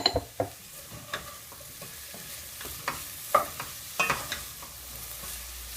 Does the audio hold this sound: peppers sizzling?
yes